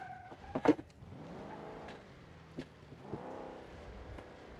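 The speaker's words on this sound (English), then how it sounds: "I could hear tires screeching the whole time you're just driving by me" Cars in a video game: engines rev and whine, rising and falling as vehicles pass, with brief sharp squeals and thumps, fairly quiet overall and no talking.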